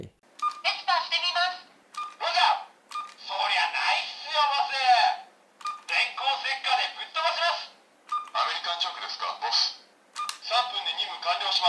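Dekaranger DX Master License toy in phone mode playing a series of electronic dialing tones and bright synthetic chimes in short bursts with brief gaps, close and clear.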